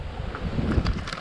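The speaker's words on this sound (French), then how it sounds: "Tu entends le vent?" Wind gusts roughly across the microphone on an exposed hillside near a newly insulated livestock building after transhumance, a steady low rumble with rustling.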